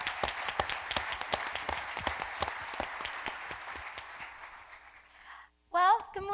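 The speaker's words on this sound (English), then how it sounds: "Let's give them a round of applause." A breakfast audience at the Denver Startup Week kickoff claps in dense, sustained applause that gradually fades out, after which a voice begins speaking.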